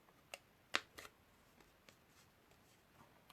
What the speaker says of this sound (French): Donc, je reprends avec mes ciseaux.